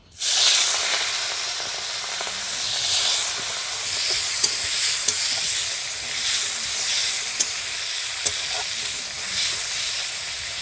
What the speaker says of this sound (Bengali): মাছগুলো দিয়ে দিলাম